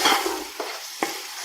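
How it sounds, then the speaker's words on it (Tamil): Tomato and mint sautéed lightly in a pan, a soft sizzle with a few short stirring scrapes, close and fairly quiet, no talk. "லைட்டாக வதக்கினாலே போதும்."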